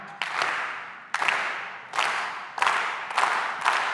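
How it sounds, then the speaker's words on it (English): An audience claps along in unison, a series of loud group claps at an uneven, slightly accelerating pace, each one ringing out briefly in a large room. "I want you to start with with following my clap"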